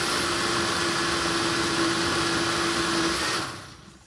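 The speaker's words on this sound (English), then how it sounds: "Okay, I got that blended up pretty well." A blender whirs steadily and loudly, puréeing hot sauce peppers with a constant high motor whine, then cuts off and winds down near the end.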